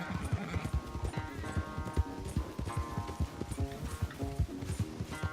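A horse gallops in a race in the video game Red Dead Redemption 2, with rapid rhythmic hoofbeats pounding close and steady and occasional whinnies over the running.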